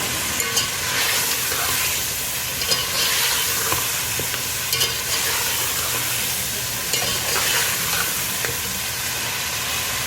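Mutton and taro frying in a pan while being stirred, a dense continuous sizzle with scraping stir strokes, close and steady throughout without talk.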